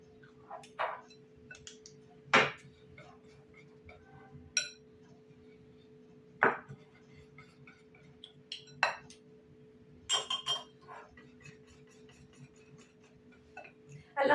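A stirrer scrapes and taps against a bowl while cake batter is mixed, giving scattered light clinks and ticks over a quiet kitchen hum.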